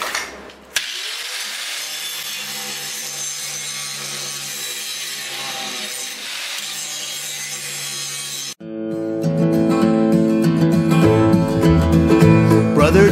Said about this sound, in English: I grind a bunch of stuff out of the way here and make a V groove